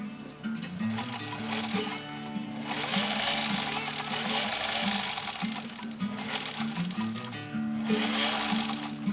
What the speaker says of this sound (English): Final sew off on Renee's 6616 from the 1940s